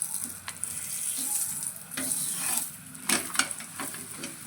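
Methi thepla flatbread frying in a little oil on a griddle gives a steady, close sizzle with crackling bursts and light stirring-like scrapes, with no talk.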